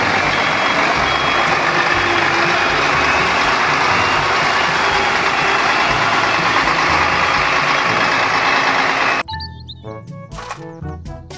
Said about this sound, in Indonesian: Mobil truk molen.